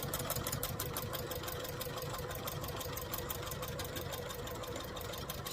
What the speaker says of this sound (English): She does not like the sound of the sewing machine